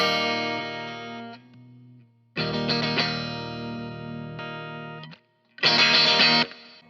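Clean electric guitar with the fuzz pedal switched off, selector in the middle position and volume about halfway, played alone as sustained strummed chords in three bursts with brief gaps between them.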